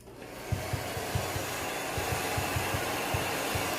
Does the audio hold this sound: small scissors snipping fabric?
no